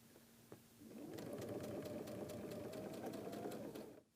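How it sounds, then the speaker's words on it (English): Sewing machine stitching curved quilt piecing for a freeform compass block, a steady rapid needle run of about three seconds that starts after a brief click and stops abruptly. "I'm going to sew with the curved piecing unit up so I can see clearly what I'm doing and where I'm going"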